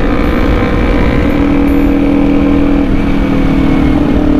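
A Yamaha R25 motorcycle engine runs loud and close, a steady, buzzing drone that rises slightly in pitch partway through as the rider accelerates.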